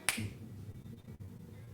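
A single sharp finger snap rings out near the start, close and crisp, followed by quiet room noise.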